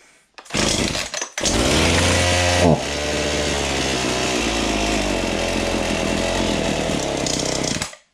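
A faulty chainsaw that stalls when accelerated starts, sputters briefly, then revs up loud and holds a high steady whine before cutting off abruptly.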